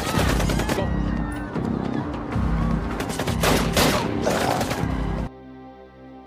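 In a film scene where two assassins attack a couple, gunfire rings out in rapid volleys of sharp cracks over a dramatic musical score, and the shooting stops abruptly, leaving sustained music tones.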